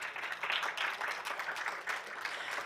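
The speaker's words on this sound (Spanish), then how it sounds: "Un aplauso, por favor." An audience at an international forum panel applauds in a soft, continuous patter of clapping, fairly distant and without talk.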